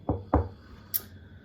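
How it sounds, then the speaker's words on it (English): Two firm knocks on a wooden door close together, followed by a short, sharp high click, all quite close in an otherwise quiet space. "Rat-tat! Scrooge knocked on the employee's door."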